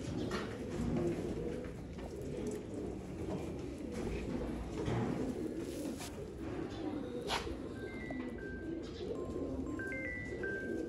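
Firozpuri pigeons in a loft coo softly and continuously in a dense, murmuring bed, with a few higher chirps and faint tones near the end.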